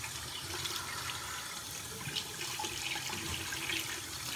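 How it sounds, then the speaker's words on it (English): Water runs and splashes at a bathroom sink as someone brings it up onto their face, a soft continuous trickle with light splashes, fairly quiet and without talk. "I'll like move the water up onto my face, that way I don't drip too much water everywhere else."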